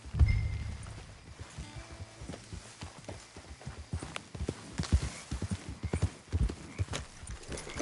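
Horse hooves clip-clopping in Red Dead Redemption 2, a steady walking rhythm of close hoofbeats on ground that continues throughout, with no talking over it.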